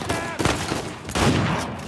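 Rapid gunfire crackles in dense, loud bursts in Uncharted 4: A Thief's End, with a sharp volley near the start and another heavy burst midway.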